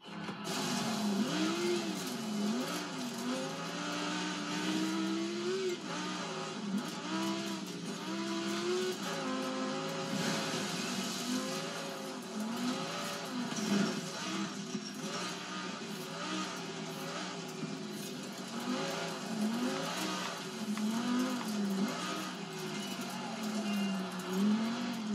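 Racing cars in a video game roar steadily for the whole stretch, engines rising and falling in pitch as they accelerate, with occasional tire squeal, loud and continuous with no break.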